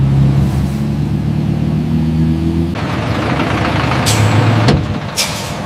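A loaded truck arrives at the main gate of a basmati rice factory, its engine droning loudly and steadily at close range, then a sharp hiss of air brakes releases near the end, with no talking.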